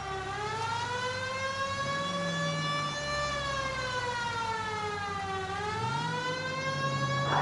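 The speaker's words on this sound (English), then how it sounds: "Cole, turn on the siren and pull her over." A loud wailing police car siren rises and falls slowly and continuously over an engine rumble, sounding synthetic and close, in the video game L.A. Noire.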